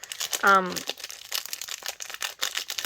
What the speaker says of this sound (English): excuse all the rustling